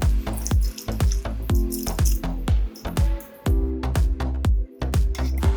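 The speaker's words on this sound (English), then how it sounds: "after boiling for 10 minutes, we're going to drain the water" Boiled potato water pours and splashes into a sink in a steady, uneven stream, with repeated sharp drips and clatters of liquid hitting metal close by.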